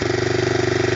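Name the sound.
Honda 250SX engine idling with choke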